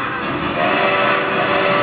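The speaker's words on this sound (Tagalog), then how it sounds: "Yan na po ang aming makulay at magarang pamaskong tren!" A loud, continuous animated Christmas train rumble with a whistle-like tone, sustained and close, with no talking.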